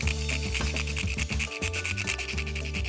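Whole cinnamon being grated fresh by hand, a close, continuous rasping scrape with rapid back-and-forth strokes and no talk.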